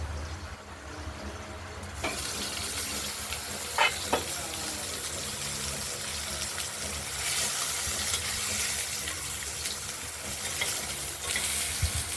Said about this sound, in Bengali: এই মশলাটা দিয়ে আমরা এই আলুগুলোকে কষিয়ে নেব, আলু আর টমেটো।